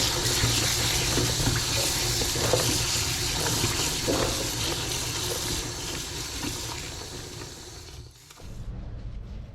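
Peppers being washed under a steady stream of running tap water, splashing continuously at close range before the flow cuts off near the end; no voices.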